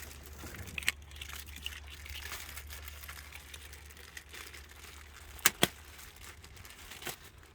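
A new cabin air filter's plastic bag is crinkled and pulled open by hand during a filter change on a Toyota Tarago/Estima/Previa. Soft, close rustling runs throughout, with a few sharper crackles near the end.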